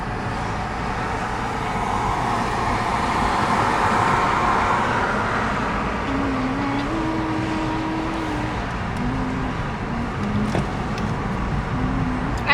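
Inside a dad's car with automatic windows while driving along, a steady broadband road rumble and engine drone fills the cabin, with a faint rising whine now and then and occasional light clicks.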